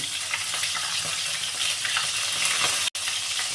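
Potatoes going into hot oil for a Bengali mixed-vegetable labra, a dense continuous sizzle close up with faint stirring scrapes and a momentary cut near the end, no talking.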